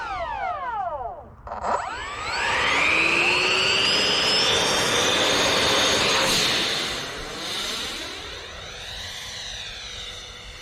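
A Pavania Tornado RC model jet with a 70mm Jetworks ducted fan roars past at high speed, its loud whine rising and falling as it sweeps by, then holding a steady scream before fading into another pass.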